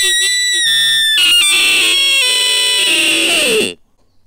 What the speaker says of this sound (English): putting my hand over the end of the call, allowing the air pressure to build inside the reed, and then allowing that to then produce the call.